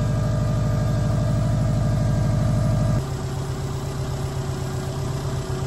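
A car engine idles steadily with a constant low hum while its engine bay is being washed, and the tone shifts slightly lower about halfway through.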